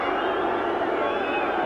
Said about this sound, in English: the crowd giving him a bit of a hurry up